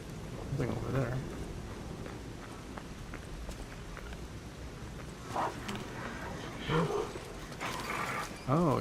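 Dogs in the game Lies of P barking and yelping in several short bursts, with scuffling footsteps and a constant game ambience; a voice talks at moments.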